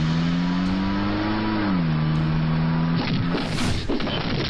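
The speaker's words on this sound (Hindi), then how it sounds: "गाड़ी रोको" A car driving along with its engine humming steadily, pitch rising and falling as it revs, then fading under a busy mix of thuds and movement toward the end; no talking.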